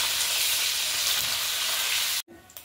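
Paneer frying in hot oil in a kadhai, a dense, even hiss and crackle that runs close and steady for about two seconds before cutting off abruptly into near quiet with a faint clink.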